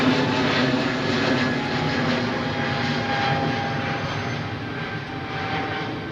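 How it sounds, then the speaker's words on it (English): A TAP Airbus A321 in retro livery taxiing out at Heathrow, with a steady, fairly loud jet engine roar and whine that eases slightly and then swells again. "TAP 321, retro livery, taxiing out"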